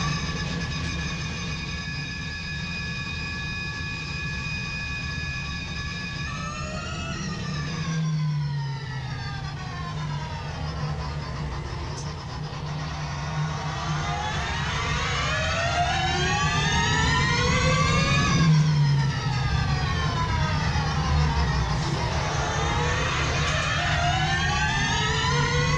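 DevBot, Roborace's autonomous race car, runs on a Rome street track at a Formula E event, its motor whine rising and falling in pitch through repeated sweeps over a steady low rumble.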